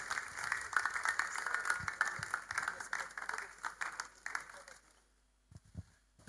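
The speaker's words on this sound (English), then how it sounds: "clap for him." An audience at a finance and technology conference claps for a speaker, a fairly faint patter of applause that thins out and fades to near silence, followed by a few closer thumps and a brief voice.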